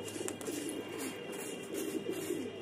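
White pigeons at a mini zoo coo softly in repeated low, rolling phrases, fairly faint against a quiet outdoor background.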